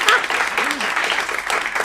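Teen acting showcase audience at a Phoenix studio clapping, a short burst of scattered applause with voices and murmuring mixed in.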